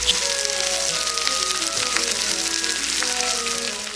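A ribeye steak sizzles in melting butter in a cast iron pan with rosemary, a steady close crackling fry with scattered pops and spits, no voices.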